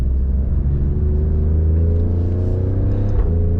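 A 2024 Alfa Romeo Stelvio Quadrifoglio SUV engine revs loudly and continuously, a deep throaty roar with slowly shifting pitch.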